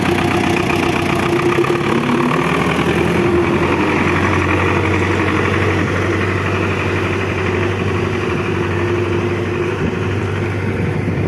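A fully working tractor engine idles close by, a steady low rumble with an even mechanical rhythm that runs unbroken for the whole stretch, with no talking over it.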